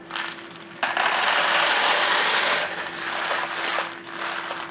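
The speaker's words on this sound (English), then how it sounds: "we will actually weight it with some ceramic baking beads" Ceramic baking beads poured onto a pastry tray to weight a custard slice base give a dense, continuous rattling clatter for about two seconds, then a softer scattered patter, with a steady low hum underneath.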